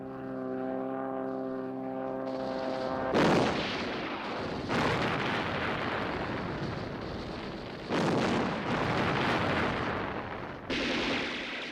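Artillery fire during the Spanish Civil War near Palma in a 1987 war documentary: a droning engine-like tone gives way to repeated heavy booming blasts and rumbling explosions, loud and sustained, with no talk over them.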